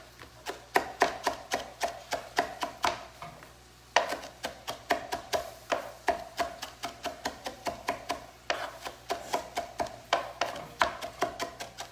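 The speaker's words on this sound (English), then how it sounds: "we're gonna chop it away and just chop your parsley" A knife chops a bunch of fresh parsley on a cutting board, close by, in quick, steady bursts of crisp taps separated by brief pauses.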